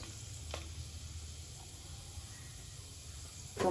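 Cumin and dry spices fry in hot oil, a soft, steady sizzle at low volume that runs throughout, with a couple of faint stirring clicks and a louder scrape near the end.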